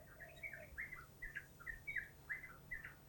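Several birds sing outdoors in a quick series of bright chirps and short warbled phrases, faint and somewhat distant over a low background hum, with no talking.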